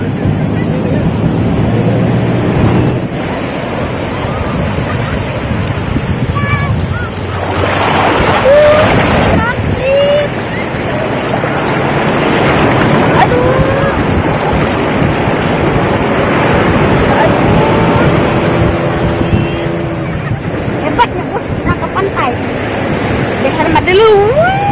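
Ocean waves roll onto a beach in a continuous loud wash mixed with wind rumble on the microphone, while people talk and call out intermittently over the surf.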